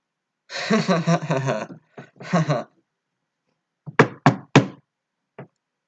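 Someone knocks on a door: three quick, solid raps in a row and then a single later knock, heard after a voice speaks briefly.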